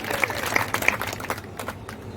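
A crowd at an outdoor public ceremony claps briefly in scattered, uneven bursts, moderately loud and fading within about two seconds.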